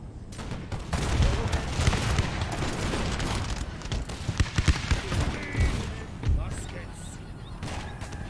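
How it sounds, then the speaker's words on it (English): Troops open fire in a strategy video game, a sustained fusillade of overlapping gunshots and machine-gun bursts with occasional heavier booms, loud and continuous for several seconds. "we're going to open fire now."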